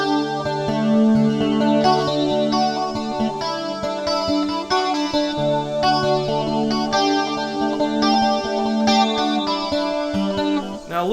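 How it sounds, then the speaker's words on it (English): A 12-string guitar runs through a rack compressor, chorus, hall reverb and acoustic detune, its shimmering, doubled strummed chords sounding loud and continuous with a wide, swirling wash. "it has the rack compressor, chorus, reverb hall unit, and then the acoustic with a detune"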